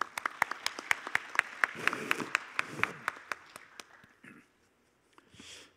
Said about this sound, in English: Ladies and gentlemen, please welcome him with a big round of applause.